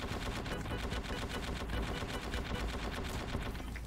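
Sustained rapid automatic gunfire in the Roblox game War Tycoon, a dense continuous burst of shots running throughout with no talk.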